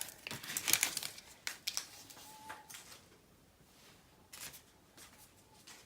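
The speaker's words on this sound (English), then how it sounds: "Now let me clean up all these little tape backs." Paper tape backings crumpled by hand while tidying a craft table, crisp crinkling bursts clustered early, then quieter scattered rustles and a few brief crackles, close and alone with no talk.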